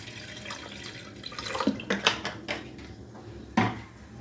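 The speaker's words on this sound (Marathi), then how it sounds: "भाज्या शिजवण्यासाठी पाणी ठेवायचं." Water poured into a cooking pot for boiling potatoes, cauliflower and peas for pav bhaji, with splashing bursts and a few metallic knocks of the pot, fairly close and without talk.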